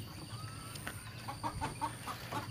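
Chickens suffering from a snoring respiratory ailment brought on by the change from dry season to rain, clucking in a short run of soft, repeated calls against a faint steady background hum.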